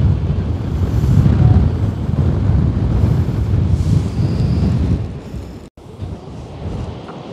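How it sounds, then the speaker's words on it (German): Gusty wind buffets the microphone at a beach campsite in Italy, a loud, steady low roar that eases slightly near the end, with no voices. "Heute ist es ein bisschen windig"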